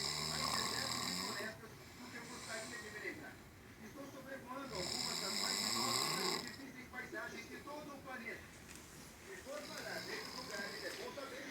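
A person asleep on the floor of a house snores loudly in long, rhythmic rasping breaths, each snore swelling and fading, close by.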